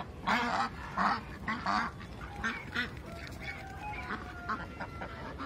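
Young Muscovy ducks quacking outdoors, several loud raspy calls near the start followed by softer, scattered calls and faint chirps, over a low background.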